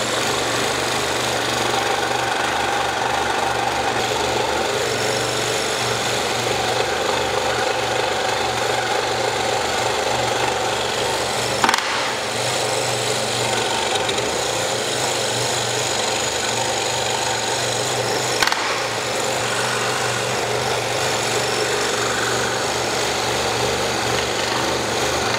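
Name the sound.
scroll saw cutting wooden star outline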